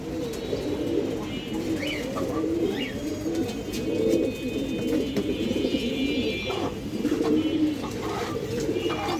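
Pigeons at a farm coo in overlapping, repeated low throaty calls, close and steady, with a few faint chirps and rustles in the background.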